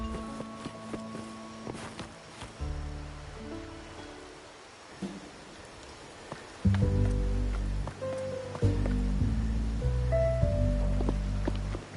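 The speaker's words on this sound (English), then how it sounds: "Rain's back." Rain in the game Wuthering Waves, a soft continuous patter heard faintly beneath a low, sustained musical score that swells midway and carries on throughout.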